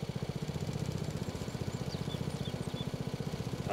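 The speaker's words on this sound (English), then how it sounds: "Let's get mowing, ladies and gentlemen." A lawn mower engine chugs steadily at a rhythmic idle-like pulse, close and loud, running alone with no voices over it on a Vermont homestead.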